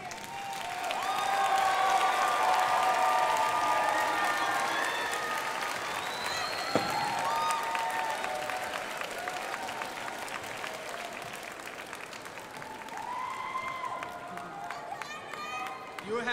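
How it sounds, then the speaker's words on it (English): Commencement audience applauding for the graduates' supporters, a broad crowd clapping that swells early and gradually fades, with voices and some movement mixed in. "give those who are here today supporting you a big round of applause"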